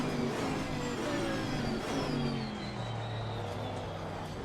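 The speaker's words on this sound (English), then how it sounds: "I think the supercharger whine sounds absolutely brilliant." A Chevrolet Camaro GT4.R engine in Assetto Corsa Competizione at Monza drones steadily with a rising, high-pitched supercharger whine layered over it, close and continuous.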